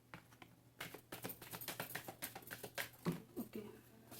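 Tarot cards are shuffled by hand in a quick run of crisp, riffling flicks and taps, close and fairly soft, rising after a quiet start.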